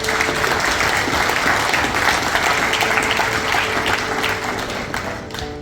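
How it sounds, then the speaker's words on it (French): A hall full of seminar attendees applauds, a dense, sustained burst of clapping that holds steady throughout and eases slightly toward the end, with no talking. "il mérite nos félicitations à travers une salle d'applaudissements"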